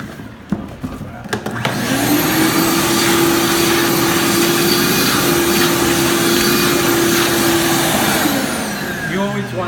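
A vacuum cleaner motor runs steadily and loudly as it cleans 115-year-old woodwork before priming, starting up after a few clicks and winding down at the end.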